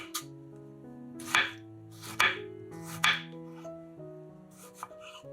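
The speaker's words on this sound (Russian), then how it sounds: "Половинки помидоров нарезаем пластинками." A knife slices through tomato halves on a board, four or five distinct crisp cuts at an uneven pace over soft background music.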